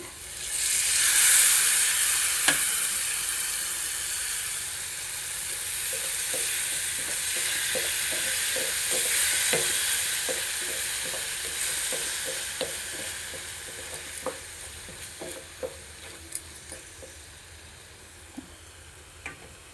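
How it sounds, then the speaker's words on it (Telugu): Tomato paste cooking in a pan for a paneer and peas curry, a steady sizzle and hiss with scattered sharp ticks and stirring scrapes that grow sparser toward the end, close and with no talking. "టమాటా పేస్ట్ పచ్చివాసన పోయే వరకు ఉడికించుకోవాలండి"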